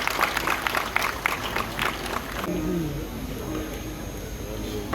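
An audience applauds at the inauguration of a film festival in Jammu, with steady clapping for a couple of seconds before it thins out and a voice starts talking over the fading room noise.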